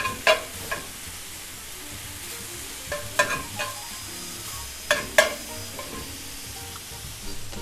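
Meat filling for empanadas sizzles in a pan under a low, steady fry, with a few crisp spoon clinks and scrapes spaced out, near and without talk.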